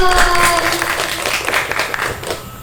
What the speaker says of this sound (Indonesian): Boleh tepuk tangan lagi dong